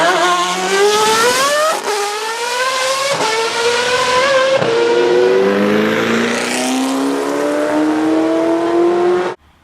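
Formula 1 race cars scream past at the Classic Car Race in Aarhus, loud engines climbing through several upshifts with a rising pitch before cutting off abruptly at the end.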